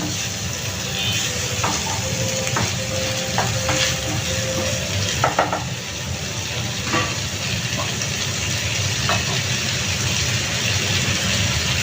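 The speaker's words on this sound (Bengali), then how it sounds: "একটু সময় ধরে আর কি একটু কষিয়ে নেব নেড়ে ছেড়ে কষিয়ে নিচ্ছি" Papaya, potato, carrot and fish curry stir-frying in oil, a continuous sizzle with intermittent spatula scrapes and knocks against the pan, close, over a low steady background hum.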